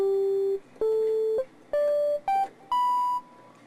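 Subtractor synthesizer in Reason 10.2 plays a sequence of five sustained electronic tones that step upward in pitch, each held about half a second with short gaps, clean and upfront with no voices.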